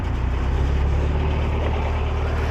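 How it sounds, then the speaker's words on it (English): A canal boat's propellers turn under a steady low engine drone, a constant close rumble with a faint rhythmic churn and no pauses. "it's props turning"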